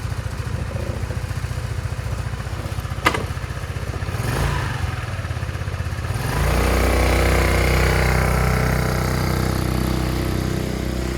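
A military-style six-wheeled UTV lawn tractor engine idles with a rapid clattering putter, then revs up louder and holds a steady drone as it drives off.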